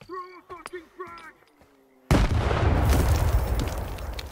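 A frag grenade exploding in the Stalker 2 game, a sudden loud blast that cuts in after a stretch of short tonal shouts and clicks and then roars on as dense, sustained noise.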